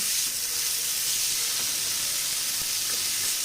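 Cut mushrooms frying in a pan with salt while being stirred, giving a steady, loud, close hiss and sizzle throughout with faint scraping, and no voices.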